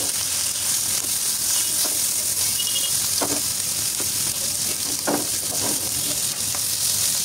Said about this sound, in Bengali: মাছগুলো আমার প্রায় ভাজা হয়ে গেছে